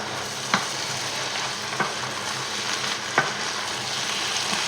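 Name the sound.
vegetables and veal paupiettes cooking in a frying pan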